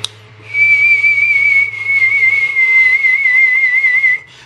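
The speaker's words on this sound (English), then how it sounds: "It's kind of like whistling." A steady whistled tone with a wavering vibrato, made in the mouth as a harmonica vibrato demonstration, held loud and clear for about four seconds with a brief break near the middle.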